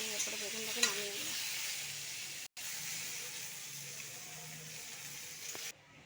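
Eggplant fries in oil in a wok with a steady, close sizzle and hiss that cuts out briefly partway through, with no voices.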